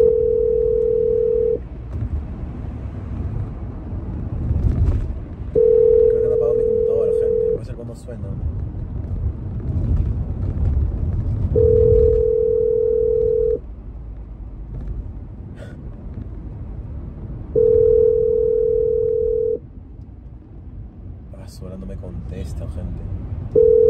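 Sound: telephone dial tone while calling a friend

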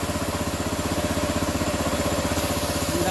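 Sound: gasoline pressure washer engine running

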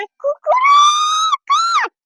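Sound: child imitating a chicken

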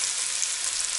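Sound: chopped liver frying with onion in a pan

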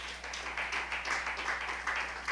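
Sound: audience clapping hands

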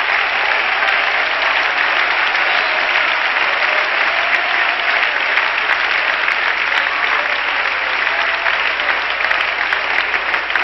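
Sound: congregation clapping hands, applause

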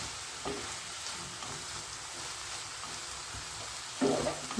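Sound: banana flower stir fry being mixed in a pan

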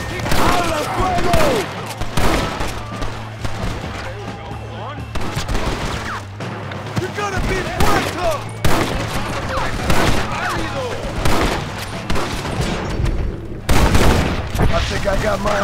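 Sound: gunfire volley in video game Red Dead Redemption

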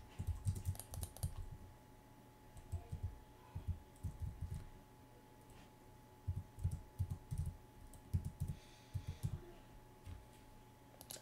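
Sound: typing on a computer keyboard

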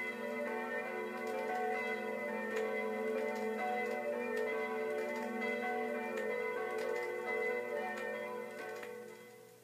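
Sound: church bells chiming the time

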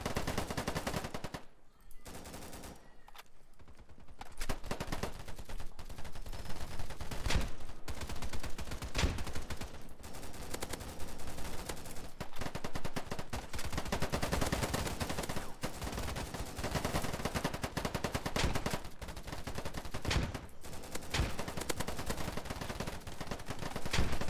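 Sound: gunfire in Polygon video game

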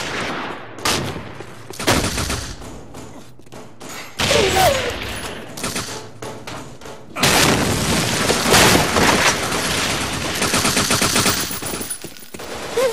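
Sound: grenade explosion and gunfire in video game Run and Fire

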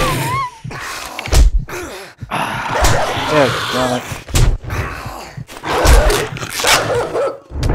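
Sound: dog barking and attacking in 7 Days To Die video game

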